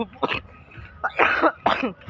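Several harsh coughs come in quick bursts, close by, with some throat clearing between them.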